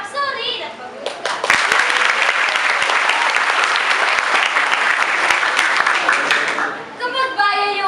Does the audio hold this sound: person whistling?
no